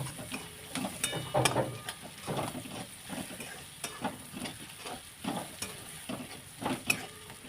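Dry spices sauté in oil for a pea and mushroom curry, a soft, continuous sizzle under repeated scraping and stirring strokes against the pan, fairly faint and close.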